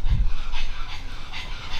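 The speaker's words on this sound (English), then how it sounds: "Yeah, the dog's here." A dog pants close to the microphone in quick, rhythmic breaths, loud and steady for a moment.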